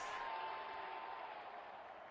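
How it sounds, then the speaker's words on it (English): Cheering crowd in the Real Cricket 20 video game during a multiplayer match, a dense, continuous roar of noise that stays fairly even and fades slightly, with no clear talk over it. "Crowd is going crazy."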